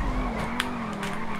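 Tires skid as a car drifts in GTA V, the modified Pegassi Tempesta: a short burst of engine drone and tire squeal, with a brief sharp screech near the middle, fairly close and loud.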